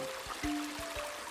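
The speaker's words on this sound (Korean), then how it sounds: "시원한 물소리가 들리시나요?" Seoul's Cheonggyecheon stream, recreated in the ifland metaverse platform, flows with a cool, steady wash of water, soft low thumps and a faint tonal hum running beneath.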